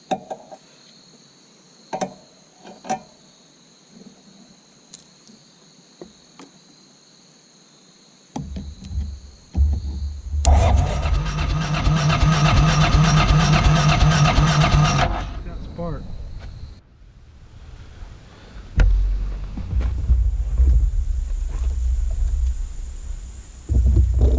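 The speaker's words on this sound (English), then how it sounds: "fuel pump running." Fuel pump running on a Honda VT 700 motorcycle, a steady buzzing whir for several seconds amid quieter shop noise, with people talking around it.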